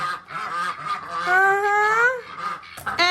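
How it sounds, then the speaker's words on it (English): A group of hungry ducks quacking loudly at close range, with several overlapping honking calls and one long rising squawk in the middle. "Is that what all the quacking is about?"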